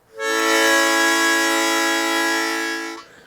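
A single sustained blues harmonica chord drawn on holes 2, 3 and 4, steady and reedy for about three seconds before cutting off, with no voices.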